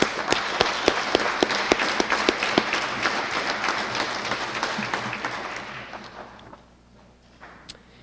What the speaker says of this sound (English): let's give our nominees and our Officer of the Year another round of applause